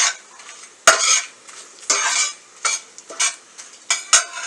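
Ingredients for soya chunk varuval are stirred and fried in a pan, with a series of bright, scraping strokes of a utensil against metal over a faint sizzle, close and irregular.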